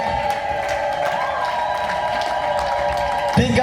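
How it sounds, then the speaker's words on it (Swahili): Congregation at a church gathering clapping and cheering for the Lord, a continuous loud patter of many hands with raised voices and a sustained tone running through it, swelling slightly near the end. "Piga makofi mengi kabisa kwa ajili ya Bwana"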